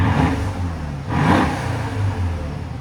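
Mercedes-Benz S-Class 5.5L or 6.3L V8 idling close by, then a single quick rev that swells and falls back to a deep rumbling idle.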